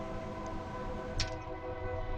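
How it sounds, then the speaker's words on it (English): A train rolls past a farm with a steady, loud rumble and a sustained tonal hum like a horn or whistle. There is a brief bright burst around the middle and no voices. "Well, folks, there's a train coming through,"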